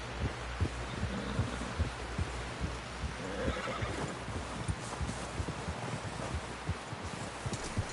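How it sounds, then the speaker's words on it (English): A horse whinnies amid steady clip-clop of hooves and a dense, busy background, loud and close throughout. "Someone help John down off this horse"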